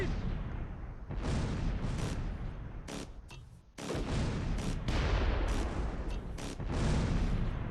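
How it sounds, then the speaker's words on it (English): MG42 machine gun fire in the wartime strategy game Close Combat III, loud dense bursts of rattling gunfire with brief pauses between volleys, booming battle noise all around. "You can hear that MG42."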